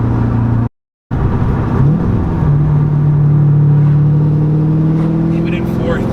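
Loud, steady engine drone of a Corvette C6 Z06 with upgraded heads and cam pulling hard in fourth gear, pitch climbing smoothly as it accelerates, heard from inside the cabin with a brief dropout near the start.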